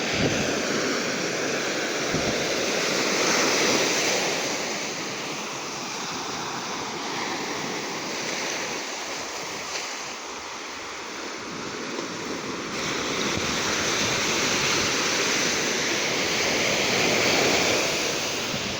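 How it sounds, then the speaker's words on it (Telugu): Sea waves roll and crash continuously on a beach, a broad, steady roar of surf that swells and ebbs over nearly twenty seconds, with some wind noise and no talking. "సముద్రం అలలు ఏదైతే సవడి చేస్తున్నాయో అదే మనకు ఒక సంగీతం లాగా అనిపిస్తుంది"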